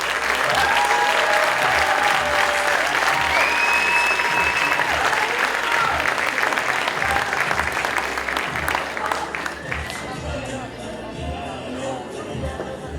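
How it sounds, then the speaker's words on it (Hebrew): Loud, sustained applause from parents and families at a school graduation ceremony, with crowd chatter, cheers and whistles mixed in, easing slightly toward the end. "אז בואו נשמע עוד כפיים."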